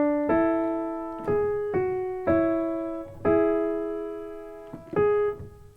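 Solo piano plays bars 3 and 4 of a song: a slow phrase of about seven clear struck notes and chords in a steady rhythm, each decaying before the next, with no talking.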